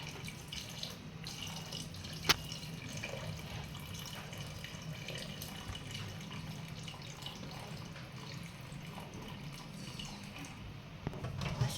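Hot water being strained off cooked crabs for a spicy crab curry, a steady running, tap-like pour of liquid heard close and continuous, with one sharp clink partway through and no talking.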